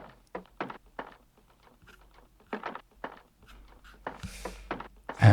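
Dry, short wooden percussion hits in an electronica track, tapped in a sparse, uneven rhythm of knocks and clicks, fairly quiet, ending with a louder burst.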